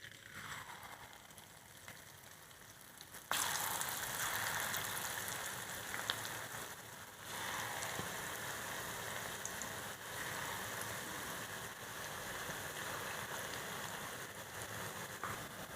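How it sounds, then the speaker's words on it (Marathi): Onion pakoras (kanda bhaji) frying in about a bowl of hot oil in a kadhai, a steady loud crackling sizzle that jumps up suddenly after a quieter start and carries on continuously, with no talking. "आता तेल आपलं आता गरम झाले, आता आपण भजे तळू।"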